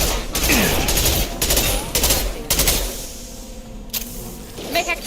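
Rapid gunfire from a sci-fi shooter game, Mass Effect Legendary Edition, in sharp repeated bursts during the first few seconds before easing into quieter background noise, with voices and game sounds mixed in.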